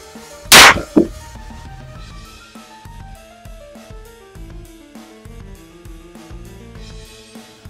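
A few grains of lead azide in a bullet detonate on impact: two sharp, loud cracks in quick succession, the second weaker, followed by music.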